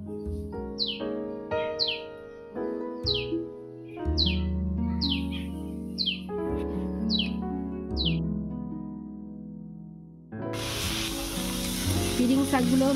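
Piring greens fry in a pan with a steady sizzle and rhythmic stirring scrapes, while bird chirps repeat in the background before a louder, harsher burst of frying near the end.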